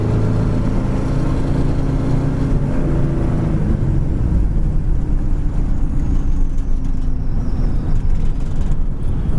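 A 1955 Ford car cruising at about 45 mph, its mid-pitched engine droning steadily with road rumble underneath, loud and continuous from inside the cabin with no talk.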